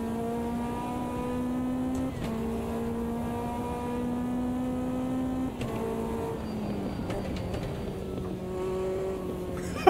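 A Lotus 620R in the Automobilista 2 racing sim drones with a steady engine tone, holding pitch, briefly dipping at gear changes, then dropping and climbing again as the throttle is feathered, loud and close without any talk.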